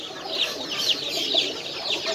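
Short face pigeons in Mumbai give a close, steady stream of high warbling calls with a brief rhythmic pulse, heard alone without talk.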